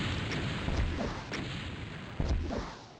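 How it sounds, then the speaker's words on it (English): Video game gunfire in Doom, MAP01 Congo of The Plutonia Experiment, comes as a few dull booming shots over a dense, rumbling wash of game noise, with no talk. "I'm going to shoot at him if I see him."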